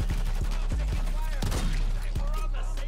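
Blunderbuss shotgun hip-fired in Call of Duty MW3, a string of heavy booming shots about every third of a second over constant game noise and background music, with voice chat in the mix.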